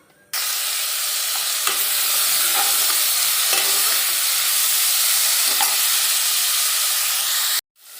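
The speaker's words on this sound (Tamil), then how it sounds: "கொஞ்சம் நல்லெண்ணெய் ஊற்றி இதில் இப்போ வெட்டி வச்ச தக்காளி வெங்காயத்தை சேர்த்துக்கலாம்." Chopped onions and tomatoes fry in hot sesame oil for mutton kulambu, making a loud, steady, close sizzle with faint stirring ticks that runs for several seconds and then cuts off abruptly.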